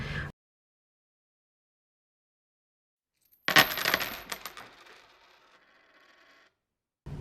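A short burst of coins clatters and jingles as they drop into a cash-stuffing budget setup, then rattles and settles away into quiet. Brief talk comes before and after.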